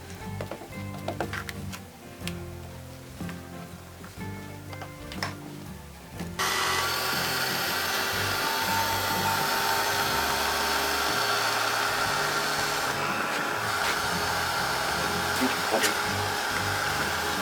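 A heat tool blows steadily to clear-emboss stamped paper butterflies, a constant loud whoosh that kicks in abruptly after some quieter handling noise and runs on.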